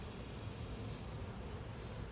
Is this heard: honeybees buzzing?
yes